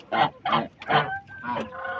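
Domestic geese honk close by, with four or five short nasal calls in quick succession.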